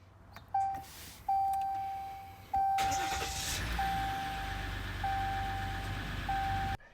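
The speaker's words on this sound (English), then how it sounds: "the car should start right up" A car engine cranks and catches after being jump-started off a Wagan iOnBoost Torque jump starter, with a repeating electronic beep chirping at intervals, then the engine settles into a steady close idle.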